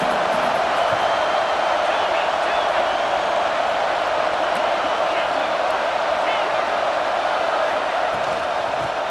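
Stadium crowd in EA Sports College Football 26 roars as a dense, continuous wash of noise that stays steady and loud throughout, with no break or distinct cheers standing out.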